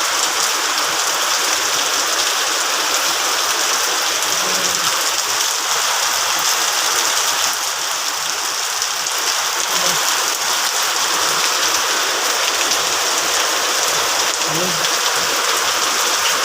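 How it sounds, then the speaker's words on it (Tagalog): Steady, dense typhoon rain from Typhoon Carina pours down without a break, a loud broadband hiss filling the whole stretch with no voices over it. "Lakas ng buhos ng ulan guys."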